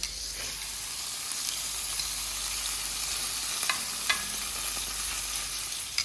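Bacon frying in a pan for breakfast, a steady close crackling sizzle with scattered sharper pops, continuous throughout with no talking.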